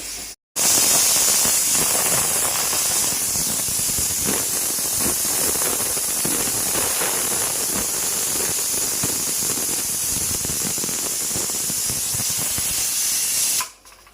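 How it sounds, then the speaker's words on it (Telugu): A pressure cooker with mutton boti and gongura curry releases steam in a loud, continuous hiss that runs unbroken for about thirteen seconds, then cuts off abruptly. "ఎక్కువ విసిలే వచ్చిందనమాట."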